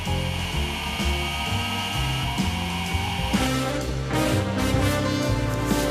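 TIMEMORE Sculptor 064 electric coffee grinder with turbo burrs grinding coffee beans, a steady close motor whir mixed with gritty crunching that grows rougher partway through.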